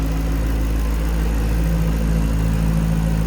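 A 2008 Ford Mustang Shelby GT500 engine idles steadily and smoothly, a constant low rumble with a faint mechanical hum, close by and uninterrupted.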